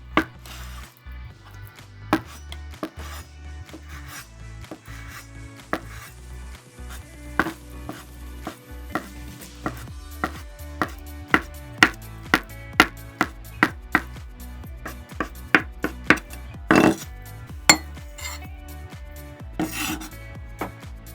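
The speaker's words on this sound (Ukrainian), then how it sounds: "Почищені яйця дрібно нарізати." Peeled boiled eggs finely chopped with a knife on a board, a steady run of close, crisp chopping taps and scraping strokes that grow denser and louder toward the end, with no voices.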